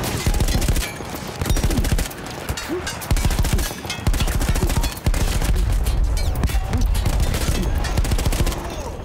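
Dense, loud gunfire from Battlefield 1's World War I combat in the Alps, with rapid machine-gun bursts and overlapping shots pounding almost continuously with only brief breaks.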